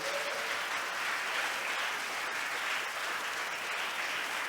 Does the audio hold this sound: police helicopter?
no